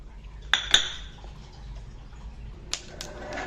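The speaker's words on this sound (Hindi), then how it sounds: "सबसे पहले हम सूखे मसाले भून लेते हैं, अदरक को छोड़ के।" Dry spices roasting in a pan for amla chyawanprash: a couple of sharp metallic clinks of a utensil against the pan, then softer scraping and stirring taps over low kitchen background.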